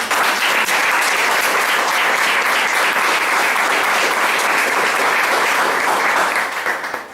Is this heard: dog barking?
no